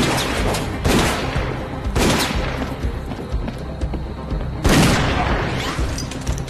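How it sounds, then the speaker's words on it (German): Gunfire and an exploding barrel in the VR bullet-time wave shooter Dead Second on Pico 4: three loud, sharp bursts spaced roughly two seconds apart over a steady bed of game noise. "Jetzt habe ich auf das Fass geschossen, was da stand."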